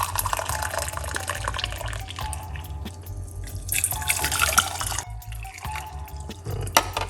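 Hot water trickles and drips into a cup in a home kitchen, faint and close, with a thin running stream, splashes and a low background hum.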